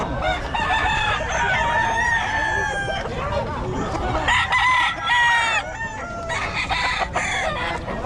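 Roosters crow and chickens cluck at a Filipino market selling derby-size fowl, several birds calling over one another alongside steady crowd babble for the whole stretch.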